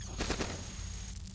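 A short burst of rapid synthetic gunfire from the Cogmind video game, a few quick loud shots merging into a rough crackling volley, with no talking.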